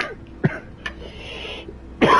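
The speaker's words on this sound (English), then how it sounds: "Sounds like you're coughing up a fur ball." A creature in the video game No Man's Sky makes a few short, raspy coughing sounds, a hacking burst early on and a harsher one at the end, with quiet background in between.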